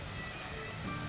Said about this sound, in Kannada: ತುಪ್ಪದಲ್ಲಿ ಫ್ರೈ ಆಗಬೇಕು ಈರುಳ್ಳಿ